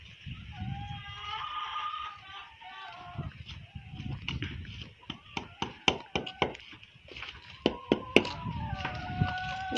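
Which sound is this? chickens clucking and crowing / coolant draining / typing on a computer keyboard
chickens clucking and crowing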